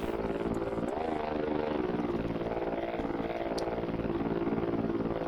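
A drone flies in the video game Voices of the Void, giving a steady buzzing whine with a brief rising pitch sweep near the start, then a constant hum at moderate loudness.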